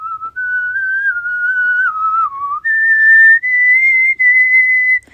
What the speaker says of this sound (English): I have a hidden talent, and it's whistling